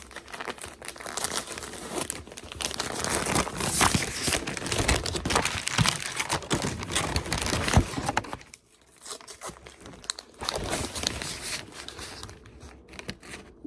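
Paper wrapping crinkles and tears as a Northshore Pokkerito sushi burrito is unwrapped, a long, busy run of crumpling close by that stops briefly, then resumes in softer bursts, with no talk.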